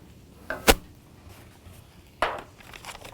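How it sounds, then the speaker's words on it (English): Two short bursts of aerosol cooking spray onto a baking pan, the second after a pause, close and fairly loud in an otherwise quiet room. "I'm gonna spray my pan."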